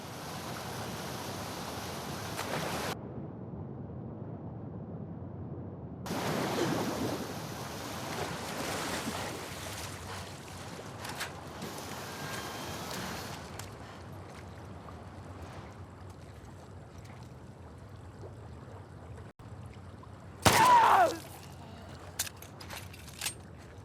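Fast-flowing torrent of water rushing through a flooded sewer in The Last of Us Part II, a low steady churning wash that swells and fades in bursts, with a brief louder splash near the end.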